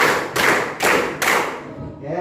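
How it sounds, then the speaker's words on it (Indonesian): A school class in a classroom claps in unison, three or four sharp broadband claps spaced about half a second apart, loud and close, then fading. "Selanjutnya, tepuk 4."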